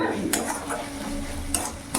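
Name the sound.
stirring spices in a pan for rohu fish curry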